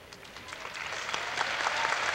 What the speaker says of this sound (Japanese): 場内に紹介されました大きな拍手です